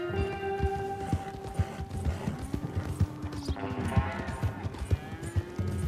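Horse hooves clip-clop steadily at a walk in the Red Dead Redemption 2 game, with a whinny and a game music bed mixed underneath.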